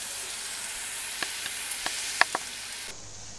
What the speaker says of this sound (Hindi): हमारा जो जिंजर गार्लिक पेस्ट था वो प्लस अनियन जो है वो फ्राई होकर तैयार हो गया है